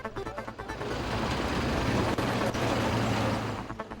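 Police convoy vehicles roll up and stop at a checkpoint, a loud, steady road roar that swells and fades over a few seconds, with engine rumble and traffic noise but no voices.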